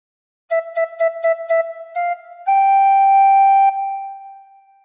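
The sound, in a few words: recorder playing a phrase of Joy to the World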